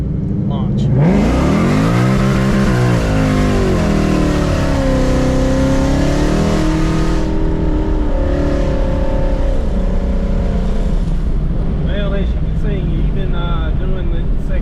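A 1000 hp 2019 Ford Mustang launches on a public road and pulls hard through second gear, its engine roaring loud and close as the revs climb, then dropping away in a gear change before building again.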